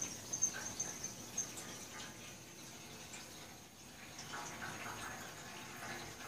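Fuel pours into the tank of a Powerwise 3500-watt 120/240-volt generator as a faint, steady trickle. Low background noise runs underneath and there is no talking.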